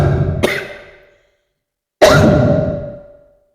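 A single person gives two separate coughs about a second and a half apart, each a sharp burst trailing off over about a second, close and fairly loud, with silence between.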